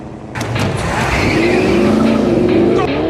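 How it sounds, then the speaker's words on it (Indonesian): A car accelerates hard with a roaring engine and squealing, skidding tyres as it swerves through traffic to escape a police car, loud and close throughout. "Kain segera menginjak pedal gas dan dengan manuver tajam berhasil membuat mobil polisi itu kehilangan jejak di tengah padatnya lalu lintas"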